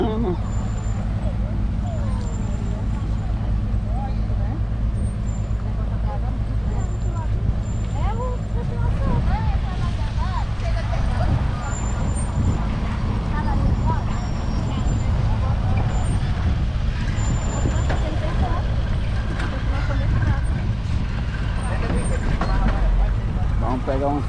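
Cars and trucks rolling onto a river ferry at a landing on the Uraricoera River, a continuous low engine rumble and traffic drone with a brief air-brake hiss, voices talking throughout.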